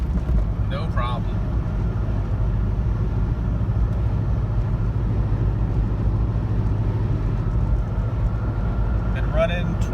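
A Jeep Cherokee Sport XJ drives along with a constant engine and road rumble, with someone talking over it; the bump impacts themselves are not clearly distinguishable.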